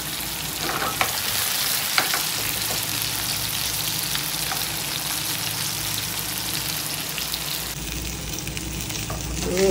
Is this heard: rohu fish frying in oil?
yes